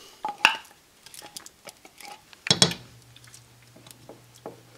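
Pizza sauce stirred in a pot, with scattered clinks and scrapes of a utensil against the pot and one louder clatter midway, faint and intermittent against a quiet background.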